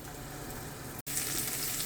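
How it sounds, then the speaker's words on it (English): A Jamaican ackee dish simmers in a pan with a soft, steady sizzling hiss that cuts out for an instant midway, then resumes. "I'm just going to give this a few minutes to simmer."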